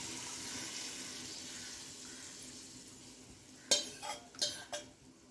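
A spoon stirs tamarind, dal and salt together in a pan for green chilli sambar. A faint hiss comes first, then a few short, sharp scraping clinks against the pan near the end.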